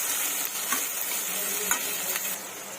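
Sliced onions sizzle softly in a pan for matar masala, with a steady low hiss of frying and a few faint clicks of stirring.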